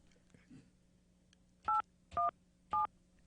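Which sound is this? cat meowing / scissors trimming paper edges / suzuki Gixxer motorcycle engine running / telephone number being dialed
telephone number being dialed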